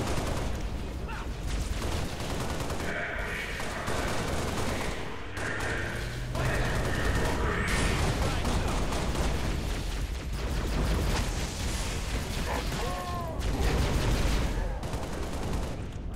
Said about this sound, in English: That's a lot of nades.